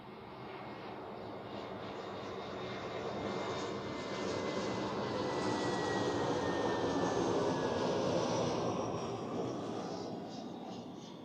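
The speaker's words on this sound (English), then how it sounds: "we first take care about the Eurowings in special livery" Eurowings airliner in special livery at Zurich Airport, its engines roaring steadily and loudly as it passes, swelling slightly toward the middle and staying strong throughout, with no talk.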